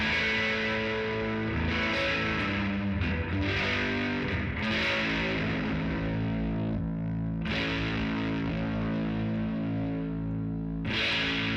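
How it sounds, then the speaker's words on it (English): Sustained electric guitar chords swell through a Dark Star Stereo reverb pedal with pitch shifting, forming a dense, shimmering ambient wash that rings on between strums. "this is what the reverb sounds like, straight down the middle with pitch."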